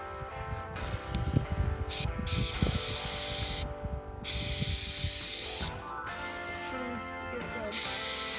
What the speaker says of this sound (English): And spray it.